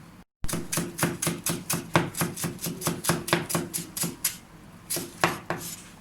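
Knife rapidly chopping the white part of spring onions on a cutting board, a fast, steady series of sharp close knocks that pauses briefly, then resumes with a few slower cuts.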